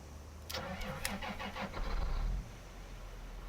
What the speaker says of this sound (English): So, if we start the engine